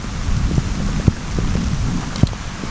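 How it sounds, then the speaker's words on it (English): Steady rain pattering on surfaces nearby, with a couple of sharper drips standing out. "And it's raining."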